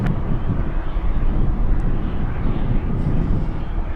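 A Turbo Otter propeller aircraft at Anchorage airport gives off a steady, droning engine roar that holds even throughout, with some wind noise.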